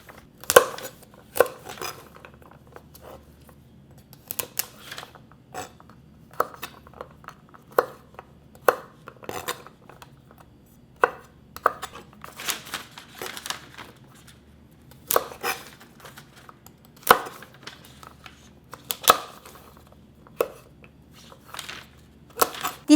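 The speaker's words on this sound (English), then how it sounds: "let's just cut these guys off. Around 2 inches." Garlic scapes being chopped into pieces about 2 inches long, a steady run of crisp knife strikes against a cutting board with irregular pauses, close and clear.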